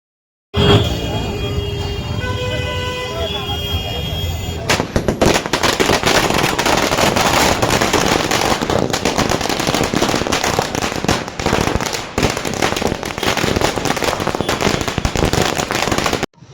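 A long, dense barrage of firecrackers bursts in rapid crackling pops, loud and continuous, after a brief moment of festive music and voices, at a street celebration in Phule Nagar, Jalgaon.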